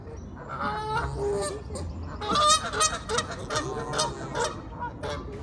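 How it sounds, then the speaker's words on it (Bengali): Geese honk in a loud, overlapping chorus at dusk beside a wooden bridge path in London, their calls repeating and layered with no talk. "এই সময়ে এই হাঁসগুলো এমন ডাকাডাকি শুরু করেছে"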